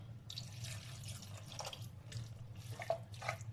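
Water is poured into a pot of beans and ripe plantain seasoned with Maggi and salt, a faint trickling splash over low background hum.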